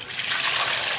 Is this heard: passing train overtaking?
no